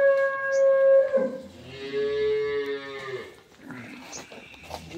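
Dairy cows and calves on a farm give several loud, drawn-out moos one after another, tonal and close, with brief background noise between the calls.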